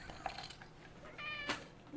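Beba the cat gives one short, faint meow in a quiet indoor room, with a few soft background noises around it.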